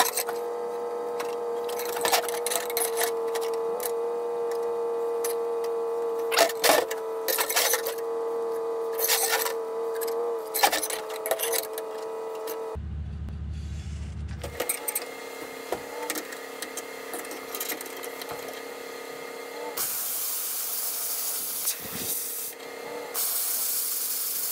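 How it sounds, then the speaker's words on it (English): A plasma cutter slices a slot through steel plate for a snow pusher skid, giving a steady hissing, rasping roar with crackling bursts, briefly cut off partway and then resuming louder and brighter at close range. "that is the area we're gonna be cutting out with the plasma"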